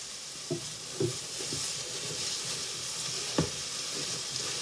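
Food sizzling steadily in a hot pan, a constant bright frying hiss with a few soft knocks and stirring scrapes of a utensil over the top.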